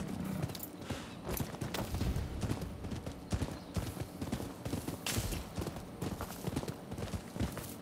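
Rapid clip-clop of horse hooves galloping in the Rise of the Ronin video game, a steady close drumming rhythm that runs the whole time with faint game ambience behind it.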